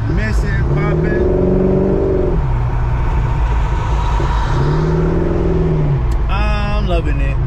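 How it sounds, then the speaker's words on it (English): Old Dodge Dart driving, a loud steady engine rumble from inside the car with two swelling revs, while voices talk over it near the start and end. "Man, this car drives way better. It ain't doing all that missing, popping."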